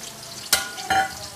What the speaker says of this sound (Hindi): देखिए, ऑयल गर्म हो गया, हम प्याज ऐड करें